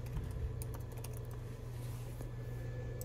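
Soft typing on a computer keyboard at a lab plate reader: a quick run of light key clicks at low volume over a steady hum of equipment.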